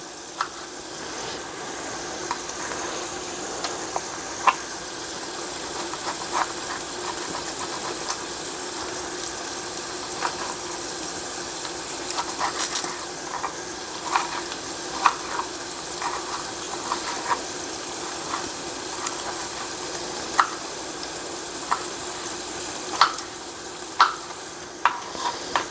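Hamburger meat frying in a pan for tacos gives a steady close sizzle with scattered stirring scrapes and clicks throughout, no talking.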